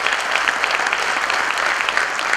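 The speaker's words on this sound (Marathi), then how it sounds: "तुम्हा सर्वांसाठी एकदा जोरदार टाळ्या झाल्या पाहिजे" A large audience breaks into loud, steady applause, dense clapping that holds at an even level for a couple of seconds without voices.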